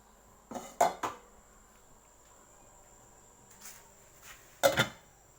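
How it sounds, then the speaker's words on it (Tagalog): A metal pot lid is handled while paragis grass is steeped for tea. A few close clinks and clatters come in two short bursts, separated by quiet room tone with a faint insect-like whine. "Kuhaan tayo ng takip guys."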